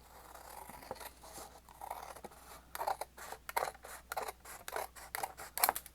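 A paper cutter slices through paper at a journaling desk, with a run of sharp, close snips that grow louder and come in quick succession, alone without talk.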